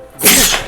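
A single sharp human sneeze bursts out close and loud, with a brief breathy intake just before it.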